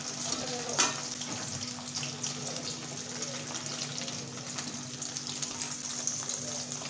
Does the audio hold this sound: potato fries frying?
yes